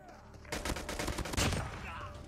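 Rapid bursts of gunfire from an MW11 assault rifle build in Call of Duty Mobile, loud and close, with a sharp cluster of shots near the end and a sustained rattle between them.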